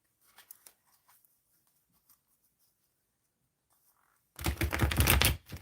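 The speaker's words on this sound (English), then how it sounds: "Okay, shuffling for Just Janelle." After a few faint taps and near silence, a loud burst of rapid riffling erupts near the end as tarot cards are shuffled close up.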